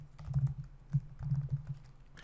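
Keys clacking on a computer keyboard in short bursts with brief pauses, nearby and moderately loud.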